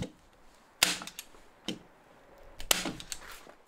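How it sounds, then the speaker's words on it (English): A staple gun fires into window membrane flaps, two sharp percussive snaps about two seconds apart, close and loud, with lighter handling knocks between and no talk. "Right, now I can grab the staple gun, fold these flaps in, and staple it in place."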